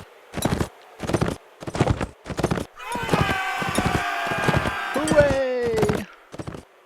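Horse hooves pound in a fast galloping rhythm during a medieval battle in the game Mount & Blade Warband, with a long whinny-like tone rising mid-way and someone talking over the action.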